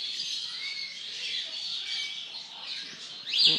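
A pet bird with a red tail, most likely a parrot, gives steady high chirps and squawks up close, with a louder squawk at the end.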